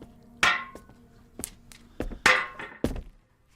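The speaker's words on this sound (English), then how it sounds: "breaking apart the old one to make way for the new." A sledgehammer strikes an old cast iron boiler in a basement, several heavy metallic thunks and clanks at irregular intervals with rattling debris, close and without talk.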